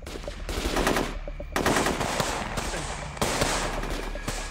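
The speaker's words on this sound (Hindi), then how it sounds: "मेजर अवस्थी की टीम काउंटर फायरिंग कर रही है" Sustained automatic gunfire in a military counter-firing exchange, with dense rapid bursts that swell and restart in three waves, loud and near with continuous crackling shots and no talk.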